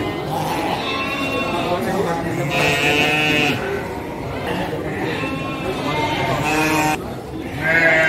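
Sheep at the Andir Bayongbong livestock market bleat repeatedly and close by, mixed with other livestock and crowd noise and people talking throughout.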